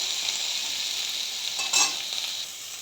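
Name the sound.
vegetables frying and being stirred in a pan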